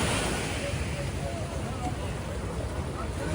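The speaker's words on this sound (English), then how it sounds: "Oh, that water sounds very tempting." Water and surf at a beach near pedal boats in Albufeira, Algarve, a steady wash of waves mixed with wind rumble on the microphone, continuous and fairly loud throughout.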